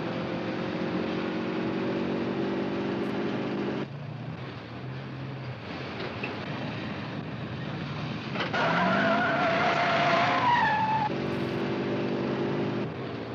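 A car in a 1958 crime film is driven too fast, with a steady engine drone, then a long rising tire squeal and skid in the middle, after which the engine hum returns; no voices.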